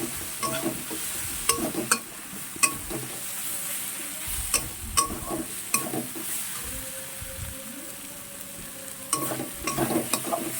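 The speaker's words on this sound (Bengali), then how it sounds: "এভাবে নাড়তে হবে যাতে আবার তলায় না লেগে যায়" Onions and tomatoes frying in a pan for egg kalia are stirred with repeated scraping strokes and sharp clanks of the spoon against the pan over a steady sizzle, close and without talk.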